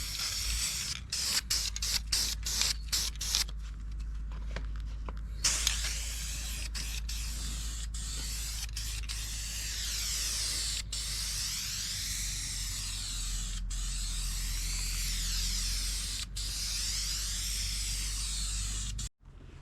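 Spray painting of car guard liners with trim and bumper paint: a long continuous hissing spray with short bursts at the start, steady and close, no talking.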